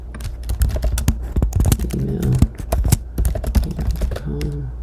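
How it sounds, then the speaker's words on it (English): Rapid clicking of keys on a computer keyboard while a random name and email address are entered into a form, the keystrokes arriving in uneven bursts throughout. "So we can just type in a random name,"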